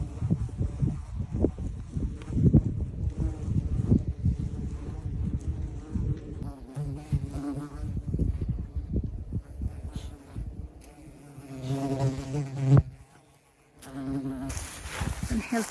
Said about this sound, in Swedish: Ingen mygg, men så in i helvete med broms.